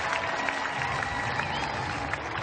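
A tennis crowd at the Cincinnati Open claps steadily and densely after a women's final, a continuous wash of applause filling the whole moment with no pauses.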